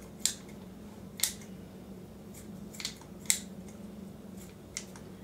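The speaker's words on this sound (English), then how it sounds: "Sometimes my scissors want to gnaw instead of cut." Sharp, crisp snips of scissors cutting bacon, about six separate cuts spaced unevenly over a quiet background, close and fairly faint.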